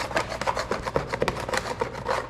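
A plastic brush scrubs the grimy engine bay of a WS6 Trans Am in a steady stream of close, raspy strokes going in different directions, with no talking.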